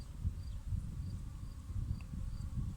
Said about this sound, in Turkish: Arımız Anadolu arısı.